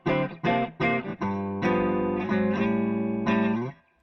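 Clean-tone electric guitar through a virtual amp: a few plucked single notes followed by sustained strummed chords with a light reverb tail.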